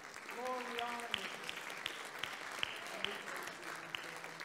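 A church congregation clapping hands in praise, a soft scattered patter of claps with a few sharper single claps standing out, heard beneath sung or spoken voices.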